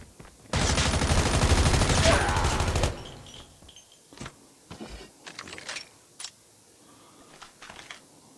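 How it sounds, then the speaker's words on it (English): Gunfire in the mobile shooter Call of Duty Mobile, starting with a loud, dense burst of rapid automatic shots lasting a couple of seconds, then scattered sharp single pops and short bursts further off. "I hear some gunfire."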